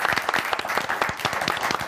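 A studio audience applauds medical staff in a dense, steady burst of clapping at moderate loudness.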